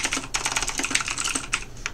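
Rapid typing on a computer keyboard during a typing speed test: a dense, steady clatter of keystrokes with brief pauses and sharper bursts, close and clear, with no talking.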